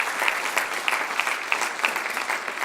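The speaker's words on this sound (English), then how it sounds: "so a round of applause for them as well" Parents and guests receive a round of applause at a school breakfast honouring valedictorians, salutatorians and star students: a steady, moderately loud crowd clapping that holds throughout with no talking.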